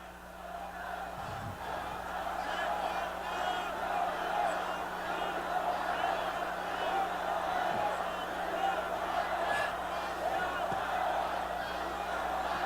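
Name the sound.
crowd cheering for President Yoon Suk-yeol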